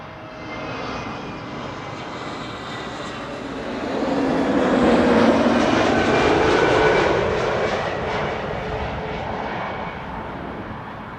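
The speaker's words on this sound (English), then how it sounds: "This is EasyJet flight 27938 arrival from Copenhagen. It's an A320 Neo" An EasyJet Airbus A320neo on arrival at Amsterdam Schiphol from Copenhagen passes overhead, a broad jet roar swelling to a peak midway then easing off as it moves away.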